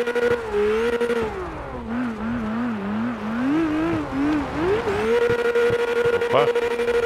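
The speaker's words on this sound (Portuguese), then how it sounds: "Olha o tututu do carro." A drift car engine in CarX Drift Racing drones loudly and continuously, its pitch dipping and rising with throttle through the slides, with faint tire noise underneath.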